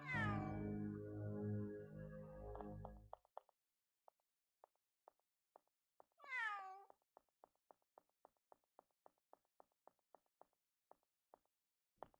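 A cat meows in the video game UnderCover AD2025 Kei, one long drawn-out meow at the start and a second shorter one later, among regular soft clicking and tapping sounds in otherwise quiet surroundings.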